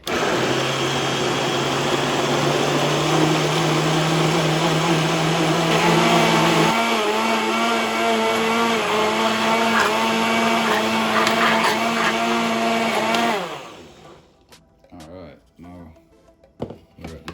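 A loud blender liquefies plantain porridge mixture, whirring steadily for about thirteen seconds, its motor pitch shifting partway through, then cuts off abruptly, leaving light clatter and quiet speech.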